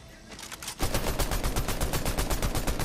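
Rapid automatic gunfire in the video game Fortnite erupts after a brief lead-in, a loud, dense burst of evenly spaced shots that continues to the end.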